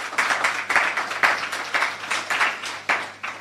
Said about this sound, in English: We need to clap for that.